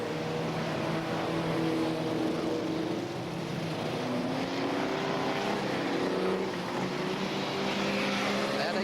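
Banger racing cars race on the Ipswich track in 1978, making a continuous loud engine roar with shifting revving tones. Crowd noise and faint speech can be heard beneath it.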